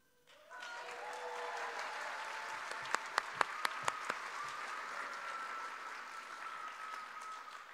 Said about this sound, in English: Callie, can you like stand up and we can give you a round of applause?